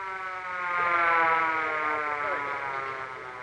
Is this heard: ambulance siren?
yes